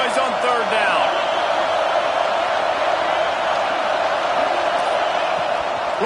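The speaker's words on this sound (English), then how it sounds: "This dog crowd is off the leash, and they are coming after them, bringing noise on 3rd down" A packed stadium crowd roars on third down during a Texas versus Georgia college football video game, a dense, constant wall of cheering and noise with no letup, with commentary voices faintly present.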